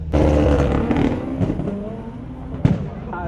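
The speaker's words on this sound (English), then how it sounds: "you can obviously hear the cars just going all at it, going crazy" Supercars revving and roaring at a supercar show, a loud continuous engine din with a sharp burst near the end, close by under crowd noise.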